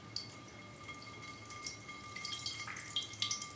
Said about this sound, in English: Let's pour some water through here and see what happens.